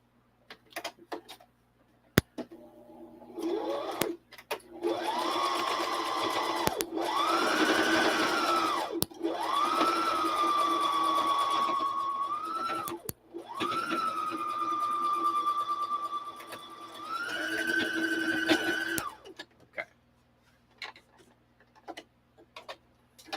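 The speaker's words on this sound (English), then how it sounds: "I'm done with the sewing machine." Sewing machine stitching in several bursts of a few seconds each, with a whirring motor and rapid ticking needle, separated by short pauses and clicks.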